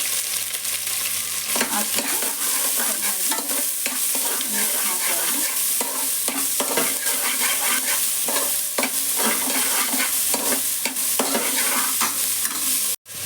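Green chilies, onion and curry leaves frying in a pan, giving a steady loud sizzle throughout with frequent scraping stirs of a spoon.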